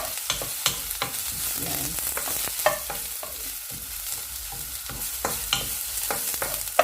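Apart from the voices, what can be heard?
garlic frying in a pan for stir fry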